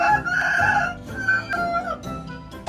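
A rooster crows in a comedic animal clip featuring a monkey and chicken, a strained, harmonic call rising and holding across most of the clip over noisy background, with brief sharp sounds near the end.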